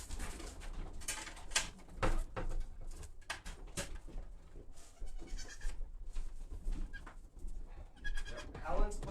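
Goats bleating in a barnyard at an animal sanctuary during a live stream, with scattered calls among pigeon coos and other farm animal sounds, while people talk over them throughout.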